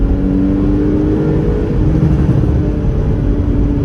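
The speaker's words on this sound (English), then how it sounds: "So you can hear the lift off overrun" Lift-off overrun from a Porsche Cayman 981 S, a loud, close, rumbling engine drone holding steady revs with a rough, slightly burbling texture throughout.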